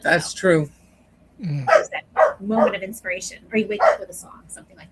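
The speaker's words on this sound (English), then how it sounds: "I don't know if you can hear the dog barking." A dog barks repeatedly in the background of an indoor conversation, its short yips and barks mixed in with and partly masked by a person talking continuously in the foreground.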